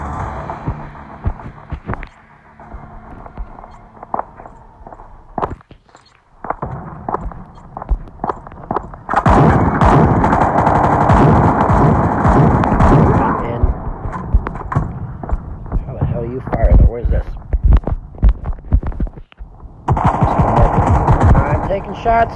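Bursts of rapid automatic gunfire from the mobile shooter game Modern Strike sound loudly in repeated stretches, mixed with game effects and an occasional voice.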